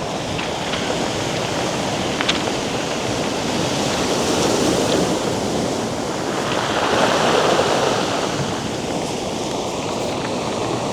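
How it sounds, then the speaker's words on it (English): Waves breaking on the Moray coast of Scotland, a continuous loud wash of surf swelling and receding, with wind buffeting the microphone and no voices. "With these waves coming in as well."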